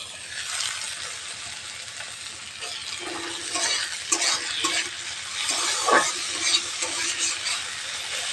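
Chopped tomatoes sizzle in a pan with okra and browned onion. A continuous close frying hiss is broken by scraping stirs and soft clinks of a utensil against the pan.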